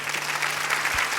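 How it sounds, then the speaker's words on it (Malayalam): Steady audience applause at an Onam stage show, a brief continuous patter of many hands at moderate loudness. "ആദ്യം കൈയടിക്കാം"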